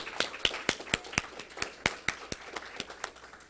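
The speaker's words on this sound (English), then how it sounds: "Please let's give them a round of applause." An audience claps for the governor's team at a Delaware broadband announcement, a sparse scattering of distinct individual claps rather than a full ovation, moderately close and irregular.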